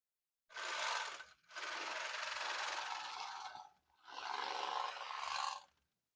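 An industrial sewing machine stitching malt bags shut at a malt house runs in three steady mechanical bursts separated by brief pauses, close by and with no talk over it.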